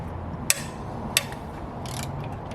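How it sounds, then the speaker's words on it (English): A breaker bar loosening small E10 Torx bolts on a Toyota/BMW B58 engine oil pump in an A90 Supra, two sharp metallic clicks about half a second apart, then a softer rattling snap, over a steady hum. "A little breaker bar action."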